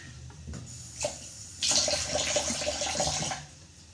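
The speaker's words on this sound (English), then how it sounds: "And I'm washing out my cutting board." Tap water runs over a wooden cutting board kept only for fruits and vegetables, rinsed at a kitchen sink: a few light knocks, then a steady splashing stream for about two seconds that fades near the end.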